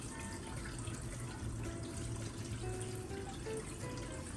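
Water circulates steadily inside a Gardyn Home 4.0 indoor hydroponic unit as a continuous, faint, hissy trickle with no pauses.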